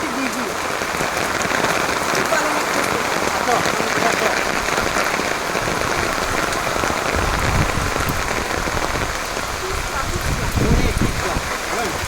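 Steady, heavy rain pours down on outdoor surfaces, a dense continuous hiss and patter that stays loud and even throughout with no voices.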